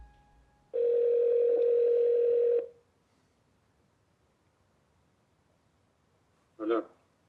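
A steady telephone dial tone sounds alone for about two seconds while a call is placed, then cuts off, followed by a short burst near the end.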